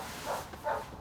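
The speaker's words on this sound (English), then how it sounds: "This dog has been non-stop barking for the last couple hours too." A dog gives two short barks at a distance, faint and a little muffled, spaced about half a second apart over a quiet background.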